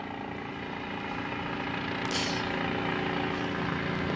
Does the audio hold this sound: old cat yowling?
no